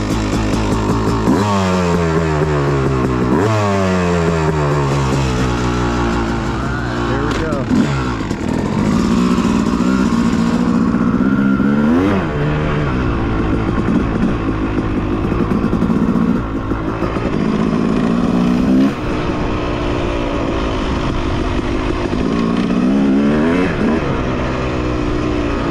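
A motorcycle ridden without a flywheel weight revs hard and continuously, with repeated rising and falling engine sweeps as it accelerates and shifts, loud and close throughout.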